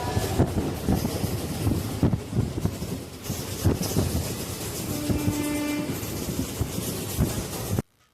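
Passenger train number 57412, the Guntakal Express, running near Hyderabad, with loud rumbling and rhythmic clatter close by, a brief sustained horn tone midway, and an abrupt cut to silence at the end.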